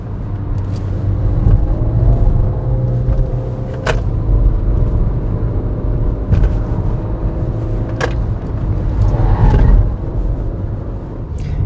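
Steady, loud road and engine rumble inside a Peugeot 2008 B-segment SUV cruising at about 140 km/h on the highway, with a few faint cabin clicks over the constant drone.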